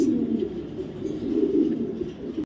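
Racing pigeons give low, throaty coos in a soft, continuous rolling murmur, close by and alone.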